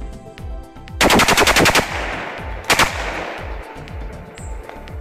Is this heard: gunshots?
yes